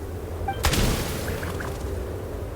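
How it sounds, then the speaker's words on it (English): Single gunshot in a video game, one sharp loud bang that rings out briefly over a low ambient hum, preceded by faint chime-like tones. "There's the gunshot."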